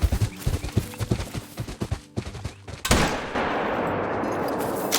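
A 7mm hunting rifle firing in a hunting video game, with a string of sharp, punchy reports in the first few seconds, then a brief lull and one loud shot whose broad rumble and echo linger to the end.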